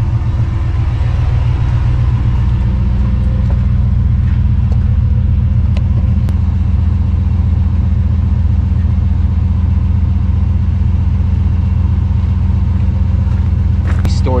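A truck engine idles and rumbles steadily up close on a ranch as the truck is moved and parked for storage, a continuous low drone over the whole stretch with a voice talking over it.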